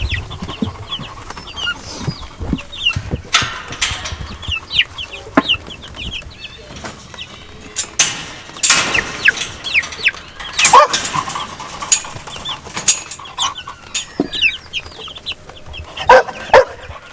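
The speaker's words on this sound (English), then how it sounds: "They're just little baby chickens." Baby chickens on a homestead cluck and peep in scattered, overlapping bursts throughout, nearby and at moderate volume, with irregular rustling between calls.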